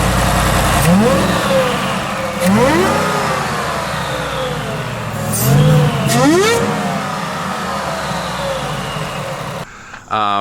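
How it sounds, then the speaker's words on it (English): A loud supercharged Ford F-150 truck engine revs up a few times in rising and falling swells over a steady rumbling idle, heard through the intake, close by. "you start the truck and you give it a couple revs, you hear it through the intake here"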